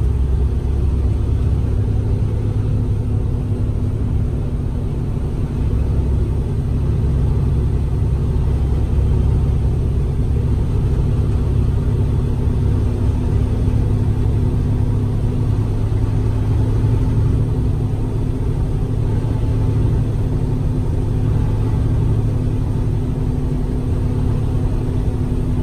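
A 2011 Freightliner Cascadia 125 truck engine drones steadily while driving, a loud, continuous low rumble from the cab with no breaks and no voices.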